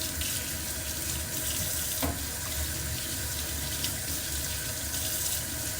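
Running tap water splashes steadily into a sink while organic potatoes are scrubbed with a vegetable brush, a continuous close wash of water with no talk.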